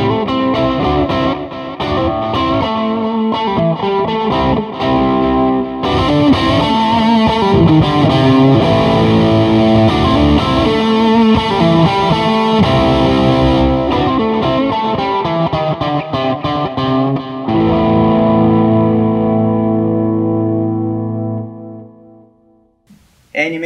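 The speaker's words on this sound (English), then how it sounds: "we've got the expression controller set up to control the gain on the distortion sound." A loud, heavily distorted electric guitar through a BOSS MS-3 multi effects switcher, an expression controller varying the distortion gain, plays chords and riffs continuously, the gritty tone swelling and thinning before ringing out and fading.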